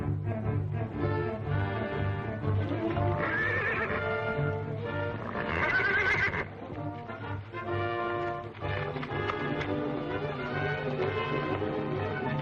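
A horse whinnies loudly and at length, its high shrill neighs rising and falling over a steady, close background.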